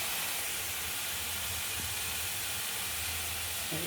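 Pieces of fried fish go into hot oil and spices, giving a loud, continuous hiss of sizzling that stays steady throughout.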